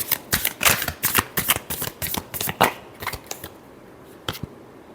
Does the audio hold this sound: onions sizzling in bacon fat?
no